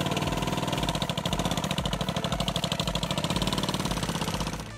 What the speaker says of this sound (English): This big beast is built around a Yanmar 840cc direct injection diesel V-twin that came out of an old cement mixer